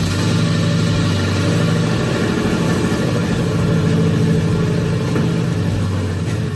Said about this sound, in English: it's time for the startup test with the mufflers